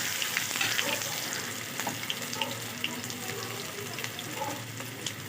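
Onions fry in a pan after ginger garlic paste is added, making a steady close sizzle with crackling pops throughout, loud and continuous, while a fish curry is cooked.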